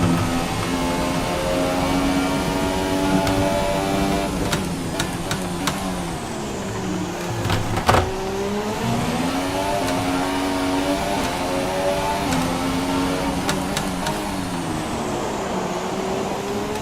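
A Formula 1 car engine in F1 2017 on the Azerbaijan circuit whines steadily, its harmonic pitch rising and falling through gear changes and throttle shifts, loud and close, with a few sharp clicks and no talking.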